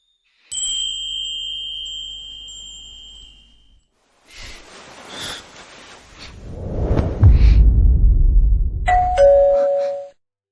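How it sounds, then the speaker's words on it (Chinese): A doorbell sounds two steady electronic tones, then a rumbling noise follows, and a short chime rings again at the end. "这门铃声太刺耳了"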